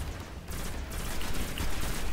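Dense, continuous gunfire in the video game Destiny forms a loud, steady barrage of rapid shots with no pauses, heard up close.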